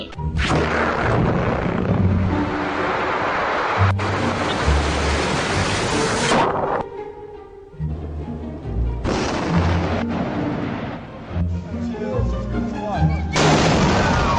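Loud explosions and heavy booming blasts from the sci-fi shooter game Warframe come in long, roaring bursts separated by short lulls, with someone talking over them.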